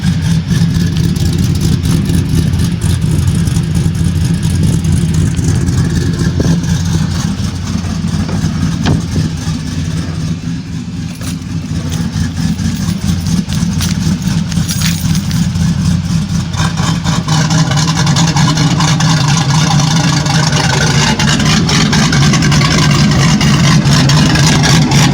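A 5.3 V8 engine in a Chevrolet Canyon runs steadily after a 4L60E transmission install, with a loud, continuous close-up rumble and a slight dip in the middle.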